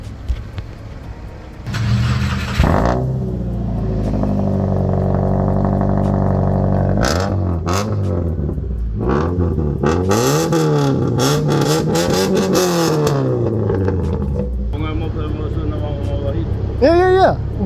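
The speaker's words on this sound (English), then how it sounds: "We're gonna see how it sounds like with no mufflers and no resonator, only catalytic and downpipe." A Subaru Impreza running only catalytic converter and downpipe, with no mufflers or resonator, starts up and revs hard in repeated loud, rising and falling pulls, then settles to a rumbling idle, with people talking nearby.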